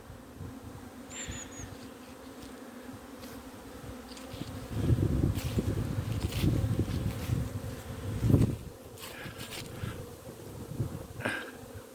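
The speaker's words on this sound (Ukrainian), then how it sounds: "Бджоли активно літають." A dense swarm of honeybees buzzes steadily around hives on a mild winter day near 10 degrees, individual bees zipping past the microphone over a constant outdoor hum.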